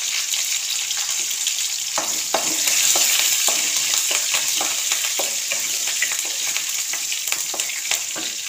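Mustard seeds, urad dal and green chillies fry in hot oil, a loud continuous sizzle dotted with rapid crackles and spatters, swelling briefly before settling, with no talking.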